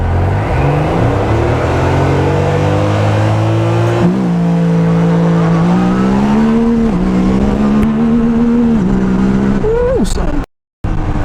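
A Yamaha YXZ1000R side-by-side engine revs loud and close, holding a steady drone that climbs in pitch in stages and surges near the end before cutting off, with voices talking over it.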